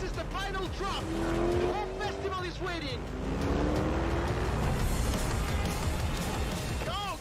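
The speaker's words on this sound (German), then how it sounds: "Da kommt noch ein Auto." Cars in a game trailer, with an engine roaring past, tires squealing and racing sounds layered over music, a busy loud mix that continues throughout.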